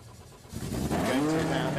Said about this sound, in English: Sounds as if the engine has started again.